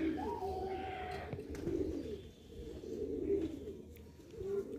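Pigeons coo repeatedly at a pigeon sale in Lucknow, their low, rolling calls continuing steadily up close with faint background voices.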